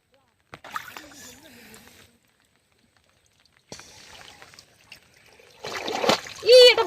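A fishing net splashes and drags through water as it is pulled in by hand in the Sundarbans, in several separate sloshing bursts with quiet gaps, and a voice rises near the end.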